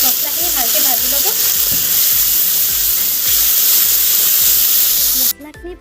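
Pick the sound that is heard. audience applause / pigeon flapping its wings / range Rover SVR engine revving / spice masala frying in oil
spice masala frying in oil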